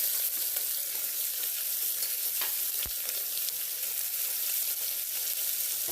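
Onions frying in hot oil for a Tamil mutton curry, a steady close sizzle with light stirring and one sharp scrape partway through, no talking.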